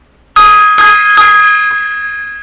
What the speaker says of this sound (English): Gong time.